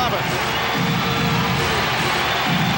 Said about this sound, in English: And the crowd trying to get the Blazers back into it.